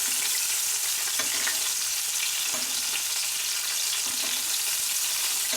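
Fish frying in butter in a pan gives a steady, close sizzle throughout, with a few faint clicks and knocks but no talking.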